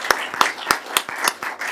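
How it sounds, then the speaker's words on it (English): A handful of sharp, separate hand claps in a quick, irregular rhythm, close and fairly loud, closing out a panel at a professional meeting. "Big applause for them."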